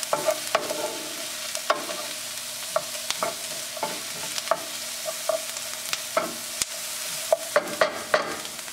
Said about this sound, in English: I'll saute the garlic cloves until they're nice and tender with the purple onion